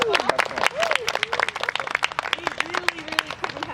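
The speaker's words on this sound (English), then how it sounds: "And let's also give some applause for Carrie and the CMAP club." Applause from a summer drama camp audience for Carrie and the CMAP club, irregular clapping of many hands at moderate loudness, with a voice speaking over it in places.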